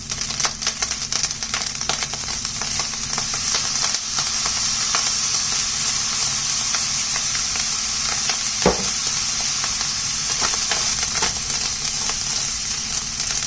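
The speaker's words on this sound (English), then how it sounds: "So now that our rice has been toasting for a little bit, we're going to add our soy sauce, give it some color." Rice toasting in a hot pan as soy sauce is added for vegan pineapple fried rice, a dense, even sizzle and crackle with a few louder pops and clinks from stirring.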